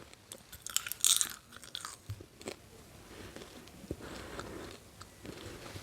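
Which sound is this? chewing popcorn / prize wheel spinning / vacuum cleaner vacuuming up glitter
chewing popcorn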